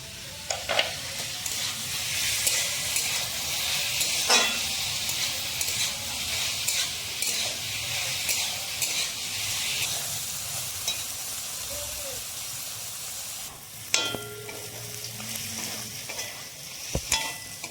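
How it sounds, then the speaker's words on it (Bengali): Chicken meat with slit green chillies sizzles steadily in hot oil in a pan, a dense crackling hiss throughout with occasional clinks and scrapes of a spatula stirring, close and even in level. "দেখুন মাংসটা কি সুন্দর ভাজা ভাজা হয়েছে, মাংস থেকে তেলও বেরিয়ে এসছে।"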